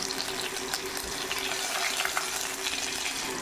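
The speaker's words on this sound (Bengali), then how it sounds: "সর্ষের তেলের মধ্যে তেজপাতা শুকনো লঙ্কা দিয়ে দিলাম" Bay leaf, dried chili, radhuni, black cumin and curry leaves fry in mustard oil for a lentil tempering, giving a steady, dense hiss and crackle with no pauses.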